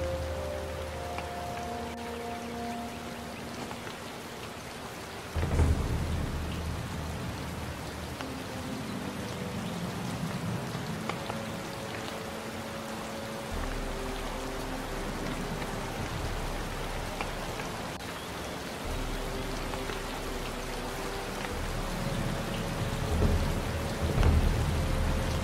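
Steady icy rain pours with rolling thunder booming several times in the video game Gothic 2 (New Balance mod), a stormy soundscape with low musical tones drifting underneath.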